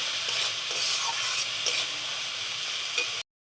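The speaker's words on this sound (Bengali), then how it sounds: "কড়াইতে মশলাটা যাতে না লেগে যায় তার জন্য একটু জল দিয়ে ভালো করে মশলাটাকে কষিয়ে নেব" Ground spice paste of cumin and coriander with a splash of water being stirred and fried in a kadai for a fish head curry, giving a continuous bright sizzle with scraping stirs that stops abruptly near the end.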